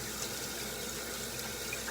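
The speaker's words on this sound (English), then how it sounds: "So I'm going to use one of these very adorable little mini blending sponges, and you want to get it wet." Water runs steadily from a tap as a small mini makeup blending sponge is wet before use. The rushing flow is close and constant for the whole moment, with no voices.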